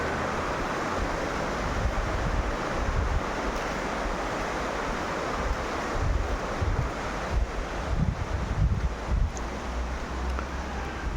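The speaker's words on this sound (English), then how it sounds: "Here's a creek or river, whatever you want to call it." A polluted creek or river in Tomuan, Indonesia, flows at night with a steady, broad rushing wash, mixed with wind buffeting the microphone and occasional low rumbles.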